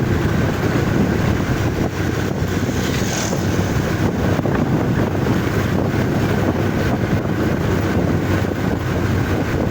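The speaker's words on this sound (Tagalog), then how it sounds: "Malamig ng simoy ng hangin dito." Steady, roaring wind buffets the microphone continuously, a dense low rumble with no voices.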